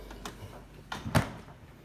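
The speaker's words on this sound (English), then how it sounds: "So I'll close the door." A Samsung RF4289 refrigerator door swings shut, giving a couple of soft, muted thuds in a quiet kitchen, fairly faint and brief.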